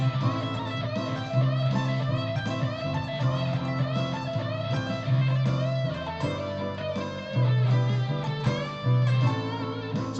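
An electric guitar plays a pentatonic lick with the common string bend from D up to E, the fourth to the fifth. The pitch bends again and again over full, steady backing music, with no voices.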